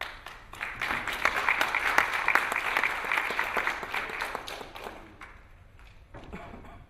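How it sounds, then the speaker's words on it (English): A round of applause closes a panel session on warehouse risk management, many hands clapping loudly and densely for several seconds before thinning out to scattered claps and fading into room quiet. "Please give them a round of applause"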